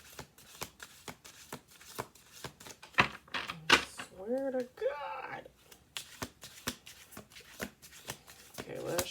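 Repeated crisp riffling bursts of cards being shuffled, close and rhythmic, with a person speaking briefly in the middle.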